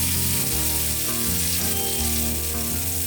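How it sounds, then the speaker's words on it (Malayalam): A whole chicken fries in olive oil with bay leaf in a wok, giving a steady, loud, close sizzle with bubbling that runs without a break and no talk. "ആദ്യം ചിക്കൻ്റെ 2 ഭാഗവും ചെറുതായിട്ട് ഫ്രൈ ചെയ്തെടുക്കാം."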